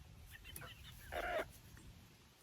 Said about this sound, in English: They're Barred Rock chickens in their new home.